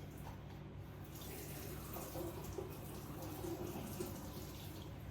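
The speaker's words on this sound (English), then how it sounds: "wash the brush off." Water runs from a tap while a brush is rinsed off, a steady, soft splashing stream with faint clinks, continuous and alone.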